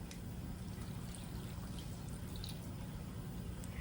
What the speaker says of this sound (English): I'm gonna put broth in here